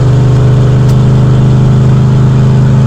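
A 1968 Ford Thunderbird V8 cruises at steady highway speed with its exhaust open, producing a loud, continuous, deep engine drone that holds an even pitch throughout.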